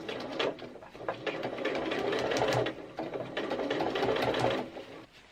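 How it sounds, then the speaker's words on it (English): A sewing machine runs steadily along a skirt seam at a 5/8-inch allowance, two long continuous bursts of close, busy stitching with a brief pause between them and no voices. "we're going to sew at 5/8 of an inch"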